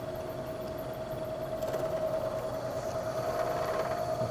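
A milling machine runs steadily while its cutter squares a rusty steel block, a continuous close mechanical drone with a constant tonal whine and no talk.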